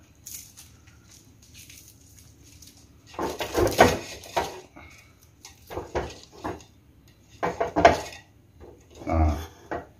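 Stalks of lemongrass tossed into a metal cooking pot in a quiet kitchen, several separate clattering knocks and rattles spread across the moment, close and moderately loud, with no voices.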